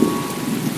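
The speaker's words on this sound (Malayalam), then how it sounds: "കുടക് മലനിരകളിലേക്ക് പ്രവേശിച്ചതോടെ ചാറ്റൽ മഴ ശക്തമായി പെയ്യാൻ തുടങ്ങി" Heavy rain pouring steadily in the Kodagu (Coorg) hills, a dense, even hiss with a constant loud wash and no pauses, heard alone.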